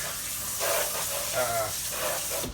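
Oxtails searing in a hot pan, a steady, close hiss of hot fat that swells and pops in small bursts over a few seconds.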